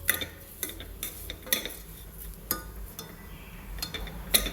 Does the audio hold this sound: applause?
no